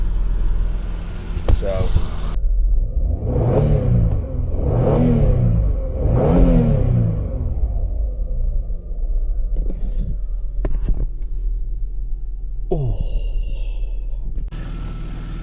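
A car engine idles and revs after a fuel injection upgrade and suspension refresh, a steady close running hum with several rising and falling revs, while someone speaks briefly over it.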